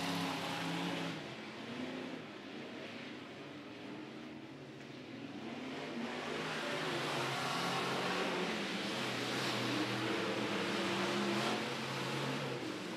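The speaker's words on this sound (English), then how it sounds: "They're racing clean right now as they come out of turn four." Sport mod race cars at the El Paso County Raceway, a continuous engine roar that swells as the pack comes out of turn four, fairly distant and steady, no speech over it.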